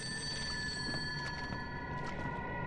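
A bell ringing steadily in the video game Fatal Frame: Maiden of Black Water, a sustained metallic tone with faint repeated strikes, quiet and continuous.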